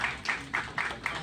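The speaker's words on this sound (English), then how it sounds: "First, please give everyone a round of applause" Audience clapping at a Republican event in New York City, a short burst of applause with rhythmic pulses of several hands, moderately loud and close, no talk over it.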